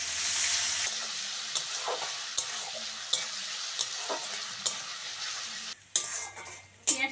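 Onions and green chillies fry in oil in a pan, a loud continuous sizzle punctuated by regular sharp clicks of a spoon stirring and scraping, close up, with a brief louder burst of clatter near the end; no speech.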